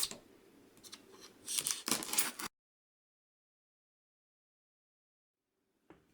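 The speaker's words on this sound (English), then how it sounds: "So let's cut this open." A blade slices open the packaging of a heavy polystone statue, a short burst of close scraping and tearing cuts, followed by silence and a faint knock.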